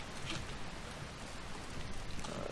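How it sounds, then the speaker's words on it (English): Steady rain in the video game Dead Island Riptide, a soft continuous patter and hiss with no pauses, heard alone at low level. "It probably doesn't help that it's raining."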